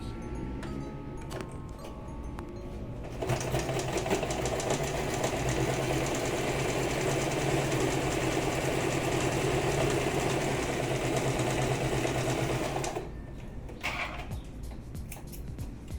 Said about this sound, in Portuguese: Eu vou passar ela bem em cima da onde passou a linha de costura da overlock.